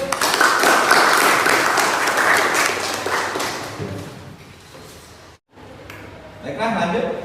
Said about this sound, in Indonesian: Beri tepuk tangan buat Yusuf.